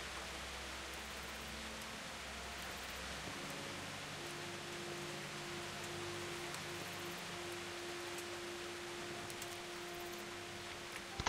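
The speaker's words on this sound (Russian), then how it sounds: "еще и дождь пошел" Soft, steady rain in the video game Kingdom Come: Deliverance hisses continuously at low volume, with a faint low hum shifting underneath and no voices.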